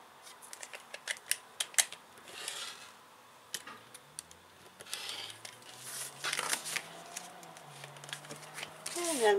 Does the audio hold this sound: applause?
no